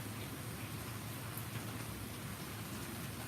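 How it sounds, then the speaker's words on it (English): Steady rain pours down during flooding in central Kentucky, a dense, even hiss of falling drops with no voices, continuous and moderately distant. "It's raining."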